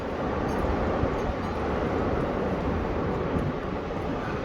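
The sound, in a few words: strong wind gusts in Ohio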